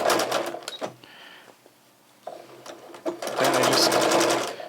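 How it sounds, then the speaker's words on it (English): A sewing machine stitches a quilt edge, running forward in quick bursts, pausing briefly, then whirring again in a loud, close, continuous run as it makes a short back stitch. "Put the presser foot down, start going forward, and then do a little back stitch here."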